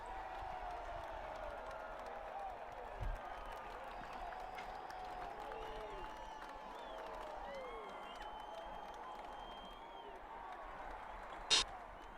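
A virtual stadium crowd in a Blood Bowl match between Skinks and Lizardmen gives a low, steady background roar with faint cheering and whoops, under continuous commentary.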